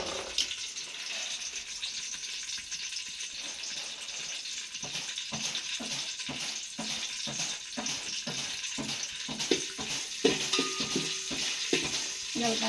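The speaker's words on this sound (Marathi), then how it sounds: "जिरा राई टाकून झालं" Cumin and mustard seeds fry in hot oil, a steady close sizzle broken by rapid rhythmic crackles and pops as the seeds spatter.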